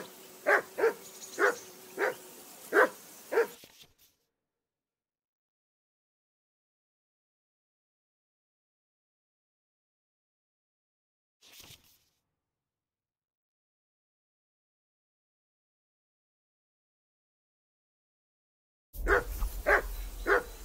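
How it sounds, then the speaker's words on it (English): Short run of five dog barks with faint whimpering from the hound Mutt in Kingdom Come: Deliverance II, then long silence broken by one brief sound and a final burst of barking near the end. "Do something with that mutt, Henry."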